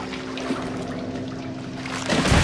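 Liquid flows and trickles steadily with a watery rush, swelling louder near the end, as a river of blood runs in the Outlast video game.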